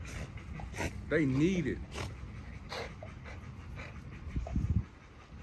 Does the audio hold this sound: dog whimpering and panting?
yes